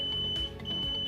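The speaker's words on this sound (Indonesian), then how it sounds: "dan akan ada bunyi beep yang panjang" An RFID locker built on a NodeMCU ESP8266 sounds a long, steady electronic beep after rejecting an unregistered card, a single high tone held unbroken and fairly loud through the moment.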